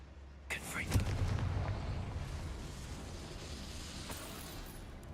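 A Confringo fire spell explodes in a Harry Potter video game with a sudden boom. A deep, rumbling roar follows and slowly fades over several seconds.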